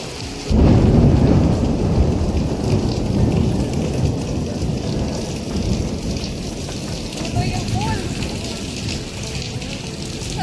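A loud roll of thunder breaks over steady heavy rain pouring onto surfaces in Batangas, which continues throughout.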